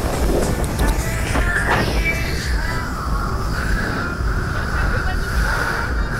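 Wind gusts across a microphone on an island shore at Phi Phi, Thailand, a steady loud low rumble with buffeting throughout, and a faint whine from what may be a passing boat.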